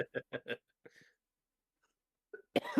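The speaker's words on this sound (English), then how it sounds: "I've been having a coughing fit all day" A quick string of short, close coughs, then a brief quiet before another cough and a burst of speech.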